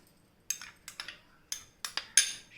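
A spoon clinks against a bowl while onion sandwich ingredients such as chopped onion and green chilies are mixed together; six or so sharp, bright knocks arrive in an uneven rhythm over near silence.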